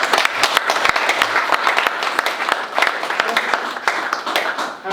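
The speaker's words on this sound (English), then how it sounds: "So I want us to give a round of applause." An audience at a school mentorship program event gives a round of applause, loud, close clapping with distinct individual claps standing out, sustained for about five seconds with a voice faintly underneath.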